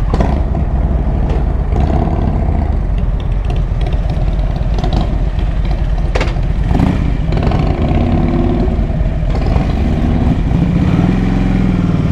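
A motorcycle engine rumbles loudly and continuously while riding, with wind buffeting and road noise, close to the microphone and no voices.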